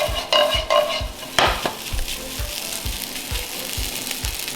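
Rice for Jinhua ham fried rice is stir-fried slowly in a wok under a steady sizzle. A spatula scrapes and taps in a regular rhythm, with a few louder clanks early on.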